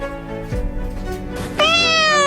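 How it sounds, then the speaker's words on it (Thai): A cat meows loudly and insistently up close, a drawn-out cry followed by a sharper, higher yowl. "โอ้ยเสียงแมวที่ไหนเนี่ย ร้องเสียงดังหนวกหู"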